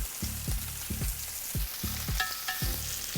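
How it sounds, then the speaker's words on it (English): Crushed garlic and rosemary sizzling in a pan alongside a ribeye steak, a constant hiss with a repeating rhythmic low thumping beneath and a brief tonal beep near the end, no talk. "now the next step is we're going to add our crushed garlic. Some rosemary."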